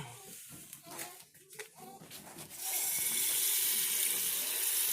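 Tap water rushes into a container, beginning after some brief clinks and handling noises, then a steady loud hiss of running water fills the last half of the clip.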